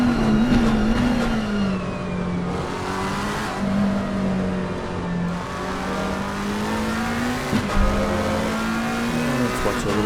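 Race cars lap the Zandvoort circuit, engines holding a loud sustained drone that dips and rises as they brake and accelerate through corners, with a short burst of tire squeal near the end.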